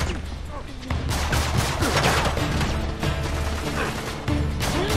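Busy Uncharted 3 gunfight with loud, close bursts of rapid shots and clattering impacts, continuous firing throughout with brief lulls.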